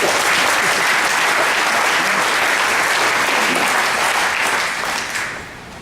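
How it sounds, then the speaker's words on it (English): A banquet audience at a family reunion gives dense, steady applause for a family standing up, loud and continuous before tapering slightly at the end, with no talking over it. "Let's have a round of applause for them."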